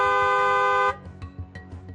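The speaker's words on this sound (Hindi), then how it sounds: "हॉर्न बजाएं।" A single loud car horn blares steadily for about a second, then stops, leaving faint street noise with small knocks behind.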